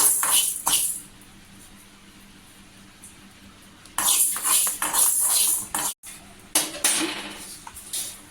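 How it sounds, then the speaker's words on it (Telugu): Fenugreek seeds roasting in a pan while being stirred with a metal spoon, heard as scattered clinks and scraping against the pan in two busy bursts separated by a quieter stretch, with no talking. "మెంతులు ఆవాల పౌడర్ అయితే ఉండాలండి ఈ పచ్చడిలోకి ఇవి దోరగా వచ్చేటట్టుగా మనము వేయించుకోవాలి"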